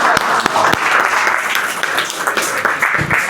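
Clapping from the audience at a business meeting attended with spouses, a sustained round of applause from many hands, fairly loud and steady, with a little crowd murmur underneath.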